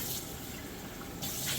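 Warm water pours from a tap into a collapsible measuring cup for organic bagel dough, a steady broadband running stream close by with a brief surge near the end.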